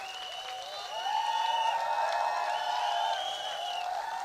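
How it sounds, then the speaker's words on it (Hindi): An audience at an achievers' event in Meerut claps and cheers in a broad, sustained burst that rises after a second and fades gently near the end, with whistles and shouts riding over the clapping. "सबकी तालियों की गड़गड़ाहट पूरे मेरठ के अंदर के आगाज करना चाहिए"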